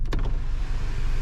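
An electric sunroof on an Audi S3 ABT 400 runs its motor with a brief whirring hum and a couple of soft clicks at the start, then a steady low drone, heard close up with no talk.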